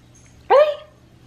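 A single sharp bark from a friend's dog being looked after, close and clear, rising out of a quiet room hum and trailing off within half a second.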